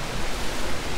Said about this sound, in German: Am Fischteich, also Bächlein oder Bach, keine Ahnung, was das für ein Fluss hier ist.